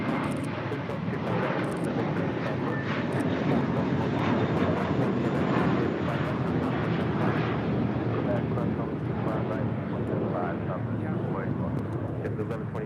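A jet airliner roars at LAX airport, a loud, continuous broadband engine rumble holding steady for the whole stretch, with voices talking over it.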